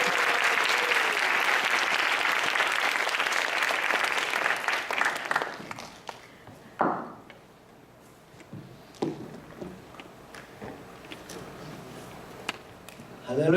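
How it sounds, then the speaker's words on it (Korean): Church congregation applauding the pastor at a Daejeon CCC campus chapel service, a loud dense burst of clapping for about six seconds that fades out, followed by scattered claps, faint room noise and a voice. "우리의 마음을 담아서 감사하는 박수 한번 쳐주세요."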